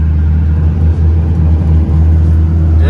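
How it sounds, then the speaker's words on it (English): A deep, steady engine of an old farm truck with a Cummins diesel and compound turbos rumbles and idles loudly nearby, with slight surges in revs throughout. "Check out this old car right here"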